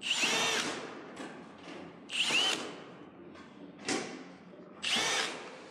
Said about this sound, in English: take my drill and just pre-drill the holes where the rivets will go through